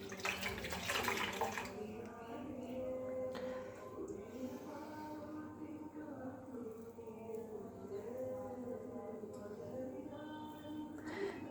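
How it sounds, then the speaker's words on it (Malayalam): Tap water running steadily while a face is rinsed, a continuous soft splashing wash that is louder at first and then settles into a quiet, even flow. "ഞാൻ ഇപ്പുറത്തെ സൈഡും കൂടെ ഒന്ന് കഴുകി കളയട്ടെ."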